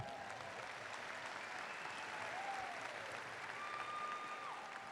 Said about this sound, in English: 2024, go ahead and give them a round of applause, yes.